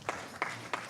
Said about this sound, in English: If you hear me, clap twice